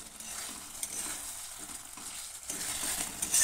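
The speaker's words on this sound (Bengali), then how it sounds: "এরপর দিয়ে দিলাম ভেজে রাখা আলু।" Fried potatoes go into a pan of sizzling chicken curry base with oil separated, giving a soft close sizzle with stirring and spatula scrapes over a few seconds.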